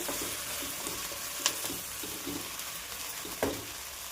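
Okra stir-fry with turmeric crackles and sizzles in a pan, a steady close frying hiss with two sharp spatula clinks against the pan, no voices.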